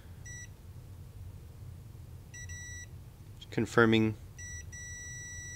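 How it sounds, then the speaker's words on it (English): A multimeter in continuity mode giving short steady high beeps, faint and close, in several separate bursts, while someone speaks briefly in the middle. "I'm going to put this in"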